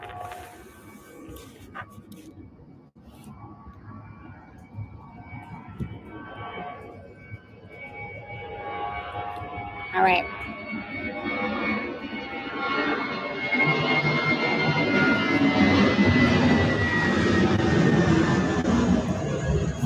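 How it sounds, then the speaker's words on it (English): An airplane approaches and passes overhead, its broad roar building steadily over the last several seconds from a faint start. A short spoken remark comes early. "here comes the plane"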